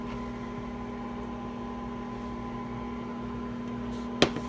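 A microwave oven hums steadily at close range while wool sits inside in a mason jar for dyeing, a constant tonal drone that ends in a sharp click near the finish.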